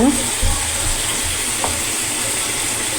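Ginger and cumin paste goes into a frying pan and sizzles loudly and steadily from start to finish, with a brief clatter at the start. No one speaks.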